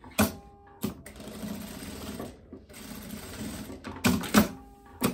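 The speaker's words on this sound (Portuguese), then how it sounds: "agora eu posso costurar essa parte" A sewing machine stitches a linen dress in short bursts of rapid mechanical rattling, separated by brief pauses and sharp clicks, close and clear with no talk.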